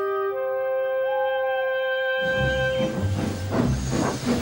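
A steam engine: a sustained tonal hum gives way to a loud, broad steam hiss with rhythmic chuffing pulses, close and continuous.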